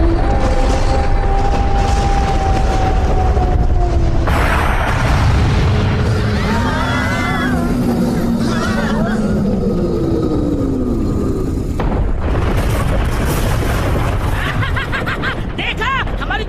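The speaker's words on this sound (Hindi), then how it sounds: "देखा हमारी तेज आवाज वाली तोप की ताकत को।" Booming cannon blasts from a cartoon battle, loud and repeated, with bursts and pops amid whooshing effects, music and animated voices talking throughout.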